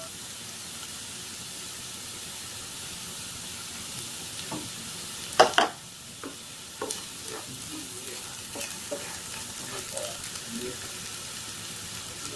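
Potato masala sautés in a pan with a steady soft sizzle. Spoon scrapes and stirring break through it, with one louder clatter partway in, close and without talk.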